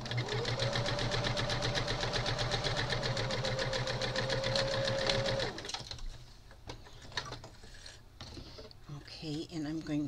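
A sewing machine stitches a quilt for about five seconds, a loud, close, fast steady mechanical whir with rapid rhythmic clatter, then stops, leaving quieter handling noises.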